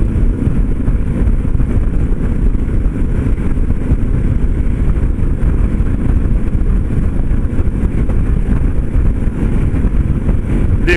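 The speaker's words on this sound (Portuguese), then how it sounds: "num comboio de mais ou menos umas 30 motos." A convoy of about 30 motorcycles riding at dawn, recorded from within the group as a loud, unbroken engine drone mixed with heavy wind rush.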